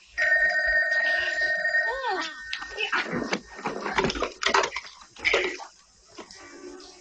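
A telephone rings with a steady electronic tone for about two seconds in a 1989 film scene, then people talk over background sounds.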